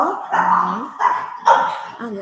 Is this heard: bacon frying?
no